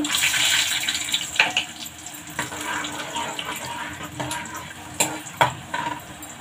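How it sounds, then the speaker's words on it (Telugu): Mustard seeds and similar tempering spices spluttering in hot oil for lemon rice make a busy hiss with irregular pops and crackles close to the microphone, a few louder bursts standing out near the end. "ఇలా చిట్పట్ చిట్పట్ అని ఇలాగా పగులుతున్నాయి చూసారా"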